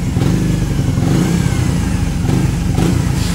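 A Raider 150 Fi motorcycle with a sputtering, stalling fault idles and revs loudly up close, its engine note rumbling continuously with slight irregular surges.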